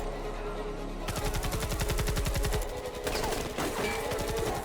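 Rapid gunfire from an action movie, a fast rattling burst of shots followed by scattered heavier bangs, heard as faint background under a quiet room.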